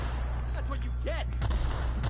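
Grenade blasts in the video game The Outer Worlds, a few sharp booming bursts in quick succession over a steady low rumble, with a voice speaking between them.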